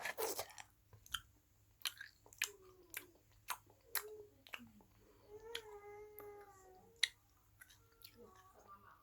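A yellow throat candy is crunched and chewed close to the mic in a series of sharp, separate cracks and bites with quiet gaps between them, plus a brief tonal sound partway through.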